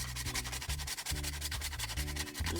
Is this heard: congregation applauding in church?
no